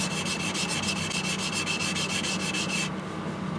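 A sushi knife ground on a natural whetstone to reset the kiriha, making a steady, rhythmic gritty rubbing of quick back-and-forth strokes. It is close and loud, with no speech, and the strokes stop near the end.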